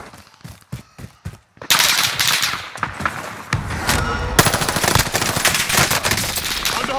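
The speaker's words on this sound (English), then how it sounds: "Under hostile fire!" Machine gun fire in the Warzone Pacific video game, starting with a few scattered shots and then breaking into loud, sustained automatic bursts that continue to the end.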